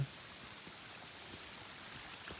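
Soft, even patter of monsoon rain falling in the distance on a mountain trek in the Sahyadri hills, a faint continuous hiss with scattered drops and no voices.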